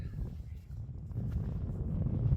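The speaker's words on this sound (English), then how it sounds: "she's a bit windy up on moor" Low, blustery wind on the North York Moors buffets the microphone with a constant rumbling roar, rising slightly toward the end, with no clear voices.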